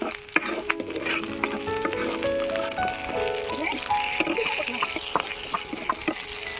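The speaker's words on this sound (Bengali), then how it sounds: "এবারে ভেজে নেব কাঁচা লঙ্কা, রসুনটা ভেজে নেব" Green chillies and garlic fry in a pan with a steady, close sizzle, broken by stirring scrapes and small spatters throughout.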